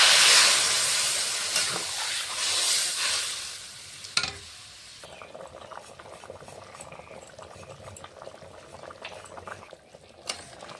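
Taro pieces and spices fry in a pan for a rohu fish curry with taro and stems, a loud dense sizzle for several seconds before easing into quieter bubbling with a few scattered clicks.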